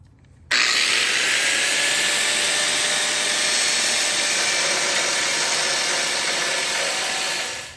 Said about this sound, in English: I'm going to go grind a bunch of this weld out and see how weak I can make the weld.